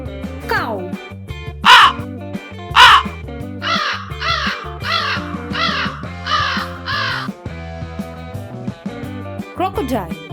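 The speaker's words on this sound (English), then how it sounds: "Crow." A crow caws repeatedly, harsh rasping calls in a steady sequence, loud and near, set over background music with a voice speaking at the start and end.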